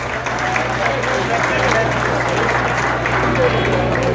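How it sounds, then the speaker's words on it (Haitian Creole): Live audience applause at an album signing event, a dense steady wash of clapping with crowd noise over a low hum, continuous and fairly loud throughout. "Applaudissez manager s'il vous plaît"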